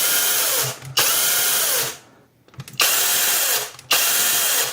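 Loud close buzzing of an IRON WARRIOR LS-006 battery chainsaw with a 12-inch bar, revved in repeated bursts that start abruptly, hold a steady whine and spin down, with a brief quiet gap in between.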